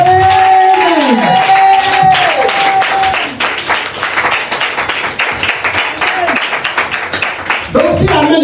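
A French church congregation during worship, clapping and cheering together: loud, dense applause with shouts, and a voice calling out over it at the start and near the end.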